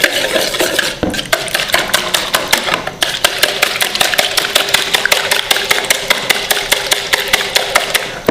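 Hand mixer beating cake batter for rusk, a constant motor whir overlaid with rapid rhythmic clicking and scraping of the beaters against the bowl, close and loud without pause.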